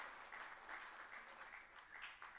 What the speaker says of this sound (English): Let's clap for Raphael Mulambia